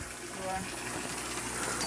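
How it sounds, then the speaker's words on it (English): Water is pumped over ten feet high by a test rig at Olomana Gardens and pours in a steady, rushing stream with a broad hiss, while someone talks over it. "she's going to hold it underneath this steady stream of water"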